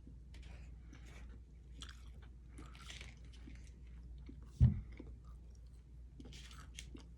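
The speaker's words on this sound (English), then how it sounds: "I'm eating purple sweet potato fries" Purple sweet potato fries mixed with russet potatoes and beets being eaten close up, with soft repeated chewing and one sharper crunchy bite standing out midway against a quiet, steady background.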